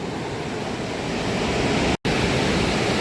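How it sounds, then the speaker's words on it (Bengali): Sea waves wash in over boulders on Digha beach with a steady, broad rushing roar and wind noise, continuous and close, with a brief dropout near the middle and no voices. "এই দেখুন কেমন জল চলে আসছে দেখুন বোল্ডার অবধি"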